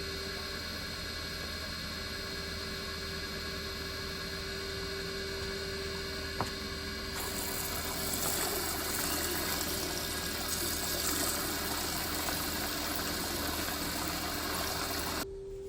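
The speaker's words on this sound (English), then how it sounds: "I'll turn on the 3-phase and the pump, and we'll just slowly open up this valve." Coolant pump running on a three-phase Sanford surface grinder, a steady hum under a constant hiss of flowing liquid that brightens and thickens partway through as the valve opens, with no talking.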